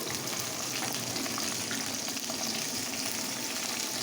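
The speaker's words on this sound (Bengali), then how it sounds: "আলু ভাজা হয়ে গেছে দিয়ে দিচ্ছি বেগুন" Eggplant pieces hitting a pan of frying potatoes set off a loud, steady, broadband sizzle that fills the whole span without pause, close and continuous with no talking.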